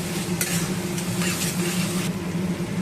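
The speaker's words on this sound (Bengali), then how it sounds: "সামান্য পরিমাণ জিরে গুঁড়ো আর ধনে গুঁড়ো ভালো করে মশলাটাকে কষিয়ে নিই" Cumin and coriander powder masala being sautéed in oil gives a steady, loud sizzle with occasional stirring scrapes and a low steady hum underneath.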